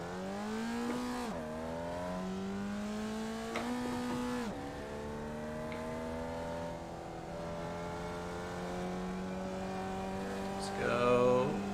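A race car engine in the iRacing sim game revs high and drops sharply through repeated gear shifts, a steady harmonic whine held between downshifts, with a brief tire squeal near the end; no one speaks.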